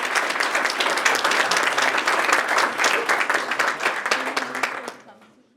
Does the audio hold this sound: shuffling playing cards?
no